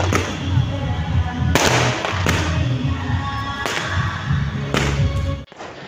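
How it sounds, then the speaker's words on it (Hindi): Firecrackers crack and bang repeatedly in a noisy crowd, several sharp bursts spaced a second or so apart over a steady background rumble. "तो देख सकते हैं पीछे तरफ फटाका फट रहा है अभी,"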